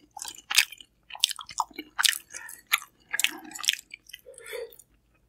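Kimchi being chewed close to the microphone, a series of wet, crunchy bites and squishy chewing in irregular bursts separated by short silences, with no talking.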